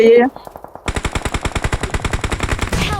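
Rapid automatic gunfire from a mobile battle royale match, a loud sustained burst of evenly spaced shots preceded by a brief voice.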